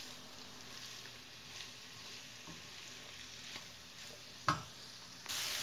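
Mushrooms are added to onions frying in a pan and stirred, giving a soft, steady sizzle with a brief clatter near the end and a louder burst of frying at the close.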